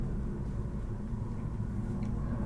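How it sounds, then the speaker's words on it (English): A steady low roar fills the air, like a jet aircraft flying overhead, continuous and broad with no other sounds standing out. "It's just jets going up in the air"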